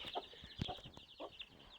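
A broody hen clucks softly in short, low bursts close by, with faint chirping from sparrows in the background.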